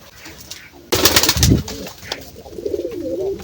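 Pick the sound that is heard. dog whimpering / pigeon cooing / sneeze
pigeon cooing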